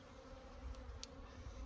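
Honey bees fly around a hive, a steady close buzzing drone of many wings holding evenly throughout with no voices.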